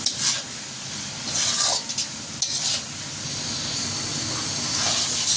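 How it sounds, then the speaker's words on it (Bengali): Chopped tomatoes sautéing in hot oil in a pan for a tomato rohu fish curry: a steady, close, hissing sizzle with intermittent scraping stirs, heard alone without talk. "টমেটোগুলো এখন ভালো করে একটু কষিয়ে নেব।"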